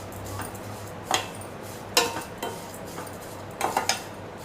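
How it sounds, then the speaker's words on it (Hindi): Sevaiyan vermicelli roasting in a pan while a spoon stirs it, giving a few soft scrapes and clinks against the metal spread unevenly over a quiet, low background hum. "ये भुनी जा रही है हमारी सेवइयाँ"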